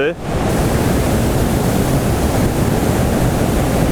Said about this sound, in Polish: Jesteśmy dosłownie 10 metrów od tego wodospadu.